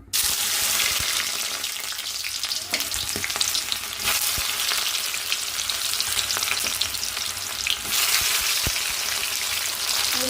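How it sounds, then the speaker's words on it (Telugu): Vegetables fry in well-heated oil in a home kitchen pan, a loud continuous crackling sizzle that holds steady throughout with occasional sharper pops and stirring clatter. "ఆయిల్ అయితే బాగా వేడైంది ఇంకా ఫ్రై చేసుకుందాం"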